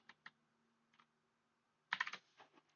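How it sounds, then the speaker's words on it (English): Faint keystrokes on a computer keyboard, a few scattered taps followed by a quick cluster of clicks, close and quiet with nothing else around. "You're going to type that in"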